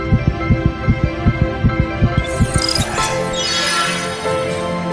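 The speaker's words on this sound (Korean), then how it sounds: "심장 박동이 빨라지게 됩니다" A heartbeat sound effect with steady double thumps that quicken, loud and alone, before giving way to a rising whooshing swell.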